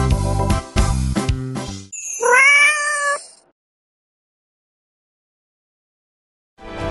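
A cat gives one clear, loud meow close by, following a stretch of jingly music and then dropping into silence.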